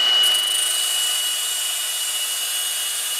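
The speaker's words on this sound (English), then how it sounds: "There's how you sharpen your tungsten." Grinding a tungsten welding electrode on an aluminum grinding disc gives a steady high-pitched whine that sounds close and loud and stays even for the whole stretch, with no voices.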